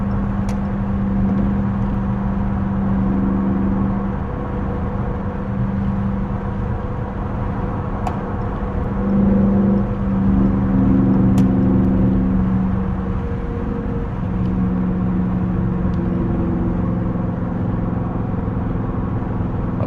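Dodge Charger R/T engine heard from inside while driving, a steady low drone that swells through several short rev-matched downshifts and acceleration pulls across the clip, with no talking.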